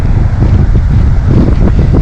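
Strong wind roars on the Black Sea coast at Psezuapse, a steady loud rumble buffeting the microphone with constant low-frequency noise and no voices.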